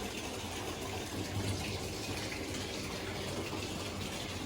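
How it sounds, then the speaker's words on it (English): Water from a tap pours into a laundry tub filling over submerged clothes for a stripping soak, an even, unbroken rushing hiss that holds steady and close throughout. "I'm going to let the water run for another minute or two until they're completely submerged"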